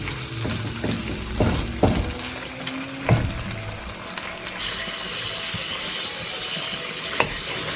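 Chicken wings cook with spices in a pot, giving a soft ongoing sizzle broken by a few sharp clanks and scrapes of stirring near the start, then settling into a quieter, even bubbling hiss.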